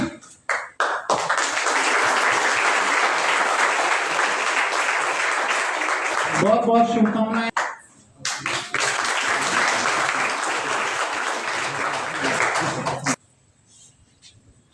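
Audience applause at a university Hindi department prize distribution ceremony, with long bursts of dense clapping from a crowd, a short pause where a voice speaks, then more clapping that ends abruptly.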